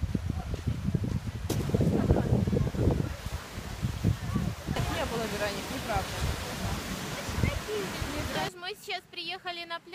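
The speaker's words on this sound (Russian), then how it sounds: "Сегодня так же, как и в прошлые дни, волны большие." Big ocean waves give a loud, steady rushing roar of surf with wind buffeting, while someone talks over it near the end.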